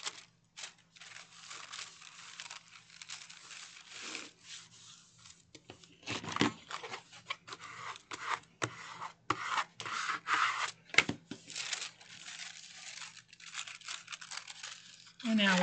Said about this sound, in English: And we will smooth this. And we'll do it 2 more times.